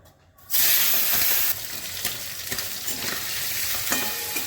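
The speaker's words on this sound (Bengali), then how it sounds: "চিংড়ি মাছগুলো প্রথমে ভেজে নিচ্ছি।" Prawns dropped into hot mustard oil in a home kitchen, a sudden loud burst of sizzling that settles into steady close frying with occasional stirring scrapes.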